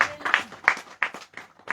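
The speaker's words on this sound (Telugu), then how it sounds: "చప్పట్లు కొట్టి దేవుని మహిమపరచండి." A congregation at a revival meeting claps in bursts of scattered, uneven hand claps that sound fairly close, with a few louder claps standing out and no steady rhythm.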